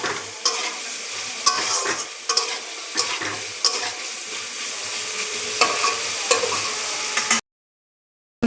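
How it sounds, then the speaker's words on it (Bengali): Spices fry in butter for shahi paneer, a steady close sizzle broken by repeated spoon scrapes against the pan, until it cuts to silence near the end. "সব মশলাটাই একটু ভালো করে বাটারে ভেজে নিলে"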